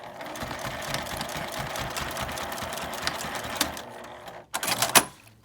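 A sewing machine runs continuously, stitching along a 5 mm seam line for a toilet paper case, a fast even rattle of the needle close up before stopping, followed by a short handling clatter.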